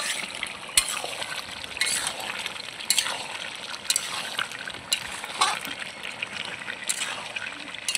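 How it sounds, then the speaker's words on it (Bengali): Meat mixed with spices is stirred in a pan while village-style cooking outdoors, giving a steady sizzle broken by regular scraping strokes roughly once a second, close and moderately quiet. "ভালোভাবে মশলাটাকে মাংসের সঙ্গে মিশিয়ে নেব।"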